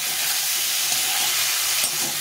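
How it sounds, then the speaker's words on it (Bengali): Sliced ridge gourd fries in a pan with a little salt, turmeric and a splash of water, giving off a continuous hissing sizzle with no talking. "সবজিটা ভেজে নিয়েছি"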